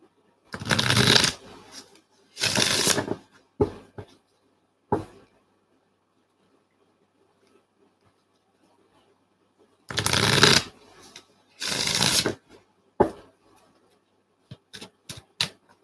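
A deck of tarot cards is riffled and shuffled up close in several loud bursts, separated by quiet gaps and followed by light card taps and flicks.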